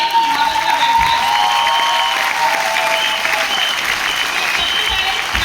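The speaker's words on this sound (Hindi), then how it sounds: "अगर बजानी है ना तालियां तो ढंग से बजाओ यार" Audience applause at a women empowerment programme, dense and loud clapping from a large crowd, sustained evenly across the whole stretch.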